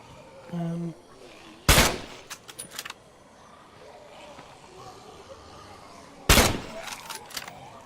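Two sharp, loud gunshots about five seconds apart, headshots on zombies in State of Decay 2, each followed by brief clattering, over a quiet background.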